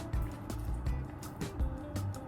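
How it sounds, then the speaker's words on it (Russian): Liquid casserole mixture poured over the top sheet of lavash, a faint, uneven series of soft splashes and drips heard up close. "и вылью на верхний лаваш"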